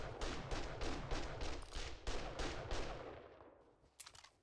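Rapid gunfire in the survival video game 7 Days to Die, a fast run of about a dozen loud, close shots in steady rhythm that tapers off, followed by a brief metallic clatter, with no speech.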